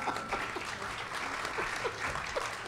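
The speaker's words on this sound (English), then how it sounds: "Let's give him a round of applause." Seminar audience gives Dr. Michael a round of applause, a continuous moderate clapping crowd throughout, with faint voices and a low hum mixed beneath.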